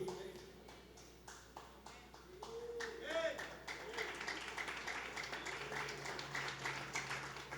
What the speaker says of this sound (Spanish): Ese aplauso como que empieza a coger forma.